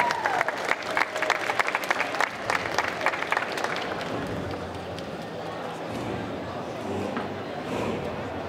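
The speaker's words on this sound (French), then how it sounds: "Sous vos applaudissements toujours." Audience applause at a Sunday costume contest at the Geek Legends convention in Chalon-sur-Saône: a dense, sustained burst of clapping from the crowd that eases into a softer, steadier patter, with a presenter talking over the start.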